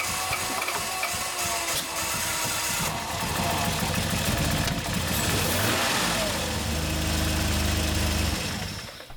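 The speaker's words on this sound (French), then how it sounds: "là elle marche beaucoup mieux la voiture" The V6 engine of a Peugeot 605 runs steadily up close, a continuous rough mechanical drone with some rattling and a slight rise in revs toward the end, and no voices over it.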